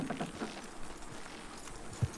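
Horse hooves clip-clopping in Red Dead Redemption 2, a soft, fairly steady patter of footfalls over game ambience, with one sharper thud near the end.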